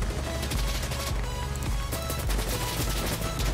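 Dense automatic gunfire in the video game Insurgency: Sandstorm, rapid rattling bursts of shots with heavy low thumps, loud and continuous throughout, without clear talking.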